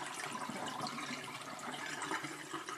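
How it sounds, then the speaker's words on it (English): Steady rushing splash of overnight soybean soaking water being poured into a sink, broadband and continuous for a few seconds, close by with no talking. "We're here at the sink, and we're gonna discard this water."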